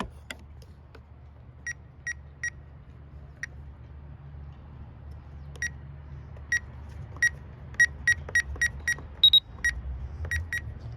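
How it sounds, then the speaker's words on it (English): A series of short, sharp electronic button beeps from a RadioShack 12-249 radio, some single and some in quick clusters, clear over a low steady hum, with no talking. "These are your valid button beeps."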